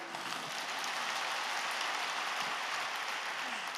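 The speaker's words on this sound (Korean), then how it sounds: "여러분들은 지금 박수를 치지만" Large congregation at Yoido Full Gospel Church breaking into sustained applause, a dense, even wash of many hands clapping at once, loud and unbroken throughout.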